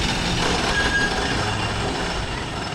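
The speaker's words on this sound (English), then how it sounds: "This is the Pioneer train." Pioneer miniature train at Knoebels amusement park rolling by, a steady broadband rumble of wheels on rail holding at a constant loud level, with a faint high squeal partway through.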